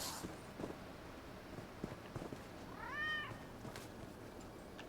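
A single short meow from a cat in the video game Elder Scrolls Online rises and falls once, faint against a steady game ambience with soft footstep-like ticks.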